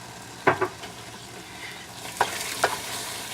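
A utensil stirs pepper mac and cheese in a pan, with a few short scraping strokes over a steady soft sizzle, close and fairly quiet.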